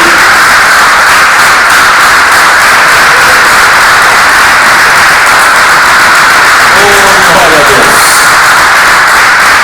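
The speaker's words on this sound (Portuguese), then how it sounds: "Se você puder aplaudir ao Senhor Jesus mais uma vez, aleluia" A church congregation applauds during a sermon, steady loud clapping filling the room throughout with some voices mixed in.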